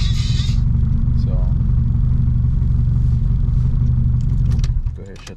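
A turbocharged Honda B-series engine in an EG hatchback idles up close with a loud, steady low rumble. It cuts out abruptly near the end.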